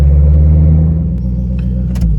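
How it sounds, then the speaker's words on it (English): An old truck rumbles loudly nearby as it pulls away, a deep, steady engine drone lasting a couple of seconds. "There goes the old truck back there."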